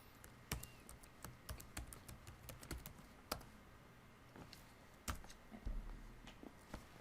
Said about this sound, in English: let's type the password for user jdo.